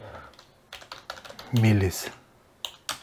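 Keys clatter on a computer keyboard in quick irregular bursts while someone types code for an Arduino sketch, with a short spoken word in the middle of the typing.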